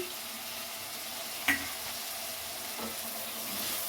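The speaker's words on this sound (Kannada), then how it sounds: "ಇವಾಗ ಟೊಮೊಟೊನೂ ಸಹ ಮಿಕ್ಸ್ ಮಾಡಿ ಚೆನ್ನಾಗಿ ಫ್ರೈ ಮಾಡ್ತಾ ಇದ್ದೀನಿ" Chopped tomato and browned onion fry in a pan for a bottle gourd curry, with a soft steady sizzle, a sharp scrape or clink of the spoon, and light stirring.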